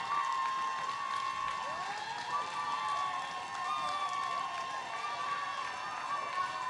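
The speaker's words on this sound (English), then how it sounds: "I want you to put your hands together, ladies and gentlemen, for Janet Juanita Davey." An audience at a Jamaican long service awards ceremony claps steadily for an honoree, a dense continuous wash of applause heard from within the hall, with faint crowd voices and cheering mixed in.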